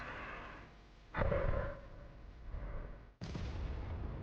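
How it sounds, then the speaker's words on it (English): An artillery gun firing during a frontline duel, two sharp booming blasts about two seconds apart, fairly distant and rolling out over a quiet background. "AFU artillery makes a shot."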